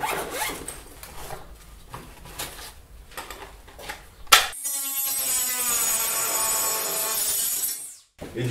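A saw cutting through a wooden door trim offcut: several seconds of rhythmic back-and-forth strokes, then a continuous, bright, rasping cut that ends with the piece breaking free, all close up with no talk.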